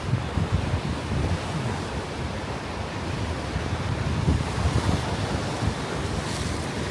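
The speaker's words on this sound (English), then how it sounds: "You'll see the ocean hitting." Ocean waves breaking on the beach at Long Beach Island, a continuous broadband roar of surf mixed with heavy wind buffeting the microphone, steady and loud with no voices.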